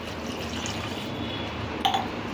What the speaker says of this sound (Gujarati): એની અંદર આપણે 1 ગ્લાસ પાણી નાખી દઈશું